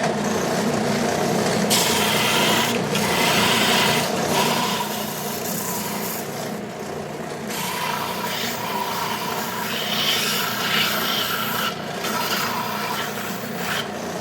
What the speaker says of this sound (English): I'm just going to put a chamfer on all these with this belt sander.